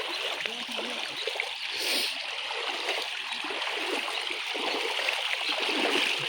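Stream water flowing steadily nearby in the Konkan countryside during fishing, a continuous bright rushing with small splashes, no voices.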